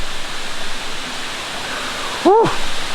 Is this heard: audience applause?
no